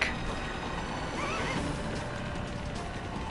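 A horse whinnies with a wavering high cry in the Legend of Dragoon video game, heard once over a dense, noisy game soundtrack and hoof clatter, fairly faint and without talk.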